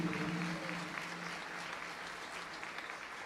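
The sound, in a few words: audience applause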